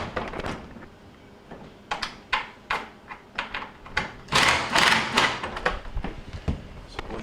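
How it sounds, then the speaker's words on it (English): A Maytag refrigerator door is lifted off its mounting brackets and set aside, giving a string of close knocks, thunks and rattles, with a heavier scraping clatter as it is put down. "we can just lift up on the door and get it off. Set the door to the side."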